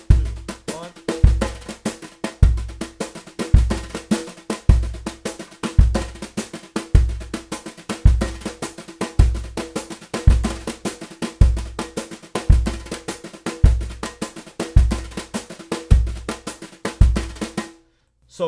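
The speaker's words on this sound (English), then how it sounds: "There are a lot of samba schools that play that press roll." Samba groove played with brushes on a snare drum, a continuous buzzing press roll with regular accented swells and low thumps in a steady, even pulse, close and loud, stopping abruptly at the end.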